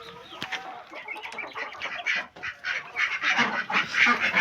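Pekin ducks and chickens call together in a poultry yard, a busy stream of quacks, honks and clucks from several nearby birds, loud and continuous with no talking.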